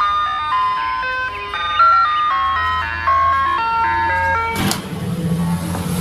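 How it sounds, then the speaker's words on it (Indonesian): A white toy ice cream truck plays its bright electronic jingle, a clear stepwise melody at close range, ending with a sudden click and a short buzzing tone. "Wah, yang warna putih ini ada mobil es krim."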